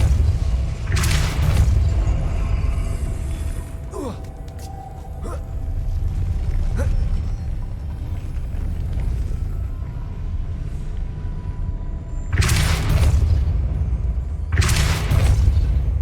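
In Hogwarts Legacy on PS5, the Depulso spell gives heavy whooshing blasts: one early, then two close together near the end, over a steady low rumble of game ambience.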